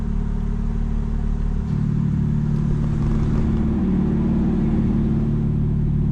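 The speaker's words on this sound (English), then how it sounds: "You should notice that rumbling. The valves have opened." A 2024 BMW M4 Competition xDrive idles with its exhaust valves open, giving a steady, loud, deep rumbling burble that holds throughout without revving and is heard from inside the car.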